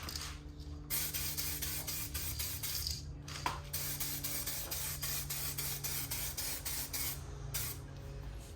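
Two-part aerosol paint is sprayed onto the brake calipers of a Jeep Grand Cherokee, a close continuous hiss in long bursts with short pauses between passes, fairly steady and without talk.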